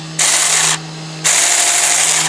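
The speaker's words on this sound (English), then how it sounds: "Take our mini chainsaw." A battery mini chainsaw that is starting to die cuts wood near a back step, with two close, loud bursts of buzzing motor noise separated by a short pause.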